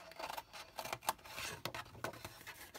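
Scissors snip through grungy paper card in a quick run of close, dry crisp cuts and rustles, fairly quiet, with no one speaking.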